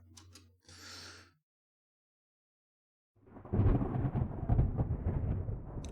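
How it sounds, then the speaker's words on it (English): After a brief whoosh and a pause, a video game demo's thunder-and-lightning effect bursts in as a loud rolling rumble that sustains to the end. "Good lightning sound."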